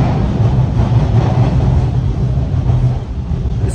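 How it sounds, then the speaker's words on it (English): Steady low rumble of a Toronto TTC subway train in motion, heard from inside the car, loud and continuous with no voices. "I'm on the TTC train right now"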